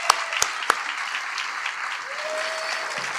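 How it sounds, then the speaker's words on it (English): An audience at an award ceremony applauding the recipient, a steady wash of clapping from a crowd with a few sharp louder claps near the start. "Let's all clap for him."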